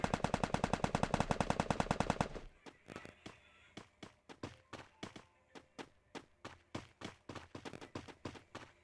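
Gunfire in the mobile battle-royale game Free Fire: a fast, loud automatic burst for about two seconds, then a string of quieter, spaced single shots and short bursts over a low ambient background.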